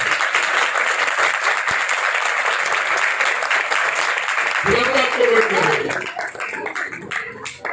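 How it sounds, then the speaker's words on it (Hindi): Loud congregational clapping fills a church hall during a Christmas programme, a dense steady roar that thins and breaks up toward the end as a voice begins to come through. "हाथों वाले हैं तो जोरदार ताली करें।"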